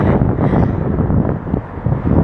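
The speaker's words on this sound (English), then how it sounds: "So it's very windy here, so I hope you can hear me." Strong wind buffets the microphone outdoors on a bridge with a sea view in Saint Petersburg, a loud, steady low roar filling the whole stretch with no voice over it.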